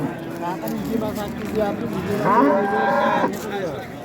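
A cow moos loudly at a livestock market in Uzbekistan, one long drawn-out call near the middle, with people talking and bargaining around it.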